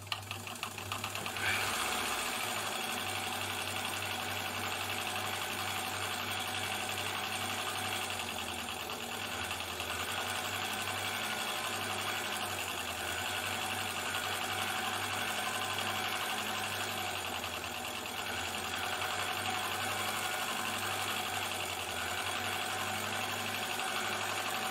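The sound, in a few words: Elna Supermatic sewing machine stitching embroidery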